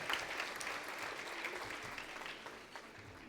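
Audience applause welcoming a speaker to the stage at a French talk: a steady wash of many hands clapping, moderately distant, slowly tapering.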